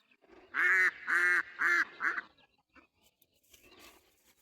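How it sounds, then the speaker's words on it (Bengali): Four loud, nasal quacks in quick succession from nearby ducks swimming in a river, followed by faint rustling and quiet background noise. "হাঁসগুলো নদীতে সাঁতার কাটতেছে"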